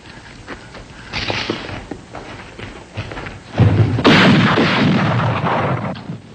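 Gunshots ring out in a Western setting as sharp loud reports, with a heavy booming blast near the end that trails off into a lingering echo, and no talking.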